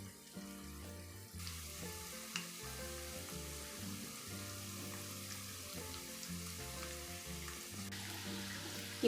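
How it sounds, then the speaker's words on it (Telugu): Tindora (ivy gourd) pakodi deep fry in hot oil in a wok, giving a continuous soft sizzle and bubbling with occasional light clinks, steady and close throughout. "ఇప్పుడు వీటిని మనం బాగా డీప్ ఫ్రై చేసుకొని బాగా వేయించుకోవాలండి."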